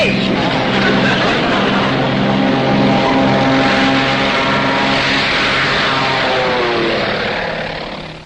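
Propeller aircraft taking off, a loud, close, steady engine drone with pulsing propeller beat that rises in pitch as it powers up, then fades slightly at the end.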